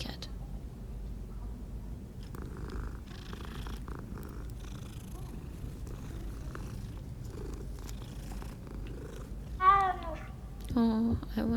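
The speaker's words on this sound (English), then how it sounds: "Nah, a kitty cat." A cat in the Hogwarts Legacy game world purring softly and continuously, a low rumbling close by, with a couple of meow-like tonal calls and some quiet speech near the end.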